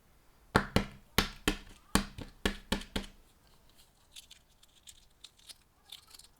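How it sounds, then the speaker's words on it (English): A century egg is cracked open with a run of about nine sharp, close taps of shell against a hard surface. Softer crackles and rustling follow as the shell is peeled away. "Now let me crack the egg open for you to show you how it looks like."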